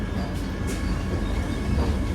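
Vande Bharat Express train running at speed in Assam, heard from inside the carriage as a continuous low rumble and rattle.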